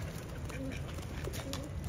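Pigeons cooing softly while being fed grain, a few low murmuring calls over a busy background with faint voices.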